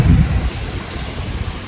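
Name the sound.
sea waves on the shore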